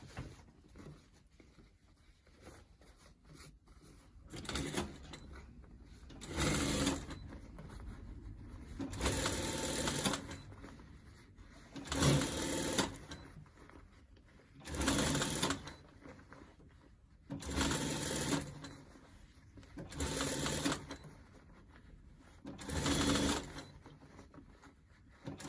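Sewing machine top stitching the pieces of a scrub hat, running in seven loud, steady bursts of a few seconds each with short quiet pauses between, close by and with no talk.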